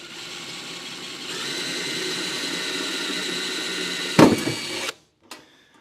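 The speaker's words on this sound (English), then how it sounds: "Let's drill this one out too." A handheld drill boring out a rivet in sheet metal on a hobby box build: a steady whirring motor, a sudden louder grinding bite as the bit breaks through, then a stop and a brief rattle.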